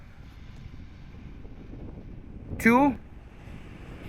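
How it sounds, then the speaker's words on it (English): Outdoor wind buffets the microphone as a steady low rumble throughout, with a brief spoken word partway through. "it is getting a bit windy now"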